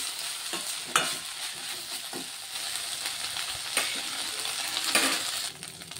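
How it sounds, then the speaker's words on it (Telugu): Mint leaves and green chillies fry in a pan, a steady sizzle broken by several sharp scrapes and clinks of a spatula stirring them, close and moderately loud, with no speech. "పుదీనా కొంచెం ఫ్రై అవ్వాలి"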